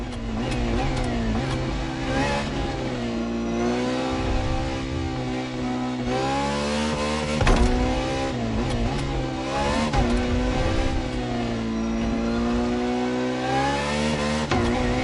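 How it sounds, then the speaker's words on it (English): Ferrari FXX-K supercar in The Crew Motorfest racing game, its engine revving loud and continuous for the whole stretch, pitch rising and falling through gear changes with a brief sharper burst midway, no talk over it. "For this second lap, you'll be driving the FXXK."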